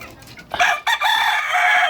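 Brazilian Rapido rooster crowing close and loud in a backyard flock, a single sustained crow after a brief catch at the start.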